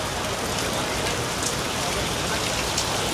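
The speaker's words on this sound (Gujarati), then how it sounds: "અને જો વરસાદ ચાલુ છે મસ્ત મજાનો" Steady rain pours down during a rainy drive in Ahmedabad, a dense, even hiss of drops striking surfaces that stays close and constant throughout, with no voices.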